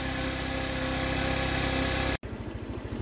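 Baotian scooter engine running at a high idle, with a steady buzzing drone and a brief cutout before it resumes with a pulsing, uneven rhythm, close and moderately loud, alone without voices.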